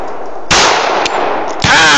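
Two loud, close shots from a Smith & Wesson .45 pistol fired outdoors: a sharp blast, a brief dip, then a second report, with the crack and ringing tail of each filling the short stretch.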